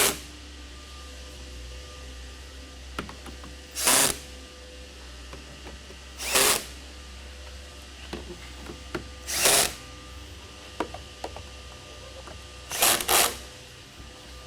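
Power tool driving bolts into the legs of a tall bed frame, heard as four short separate bursts spread across a quiet room with faint background hum and small clicks between them.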